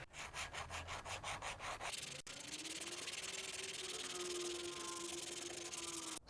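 A 1/4 inch flat file rasps across a metal putter head in quick, even back-and-forth strokes, faint and close, then gives way to a steadier, smoother scraping.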